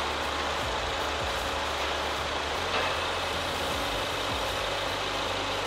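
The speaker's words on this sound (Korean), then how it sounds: "엔진 소리 일정하고 좋습니다." A 2.3-litre engine of a fifth-generation Ford Explorer Limited 4WD idles steadily, heard close from the open engine bay as an even, continuous low hum and rumble with no speech.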